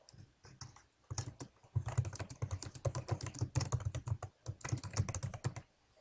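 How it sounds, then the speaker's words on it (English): Steady typing on a computer keyboard while writing in a Google Doc, quick close key clicks in fast irregular runs, with brief pauses at the start and end. "So you could type your normal text."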